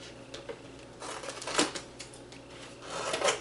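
Cardboard flaps being cut off a soda box: steady scraping, crunching cuts with a few louder bursts, close and fairly quiet, with no talking.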